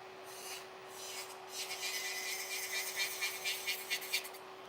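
A nail drill fitted with a Young Nails medium crosscut bit files a person's own nails: a steady thin motor whine under close, rhythmic rasping strokes that grow more pronounced toward the end, with no speech.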